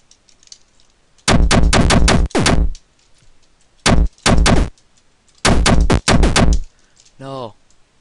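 Enemy gunfire in the video game Prelude of the Chambered, loud rapid bursts of synthetic shots in several clusters, ending with a short descending electronic tone.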